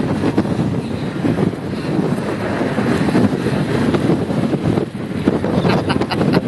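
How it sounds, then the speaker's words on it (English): Strong wind on the Lake District's Southern Fells buffets the microphone in a steady, loud rushing roar with gusty fluctuations, and nothing else stands out. "It's so windy up there."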